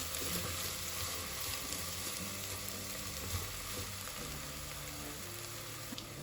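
Garlic goes into onion already frying in a pan for Bahian okra stew, and a quiet, even sizzle hisses throughout with low kitchen rumble beneath and no voices.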